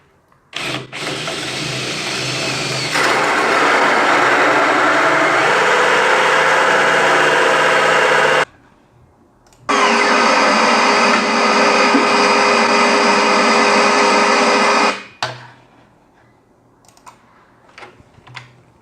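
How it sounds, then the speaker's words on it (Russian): A power tool whines loudly as it cuts a hole for cables through an oak desk top, running steadily for several seconds, pausing briefly, then running again before stopping, with a few small knocks afterward. "Для размещения проводов вырежу небольшое отверстие."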